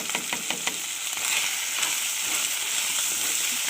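Spices with salt and turmeric sizzling as they fry in a pan, a steady loud hiss with scraping stir strokes throughout, close and continuous.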